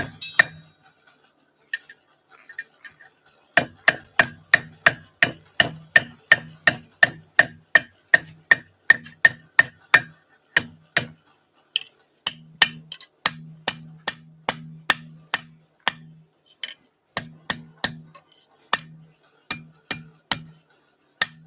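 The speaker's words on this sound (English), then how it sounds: "I'm just gonna finish forging this nail header." A hammer strikes a blacksmith's nail header while forging, ringing metallic blows in fast steady runs with short pauses between, loud and close with bright clanging overtones.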